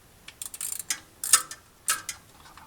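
A wrench loosens a 14mm bolt on a 2014 Honda Odyssey during passenger-side CV axle replacement, making a series of short metallic ratcheting clicks in quick bursts, close and fairly clear, with no talking.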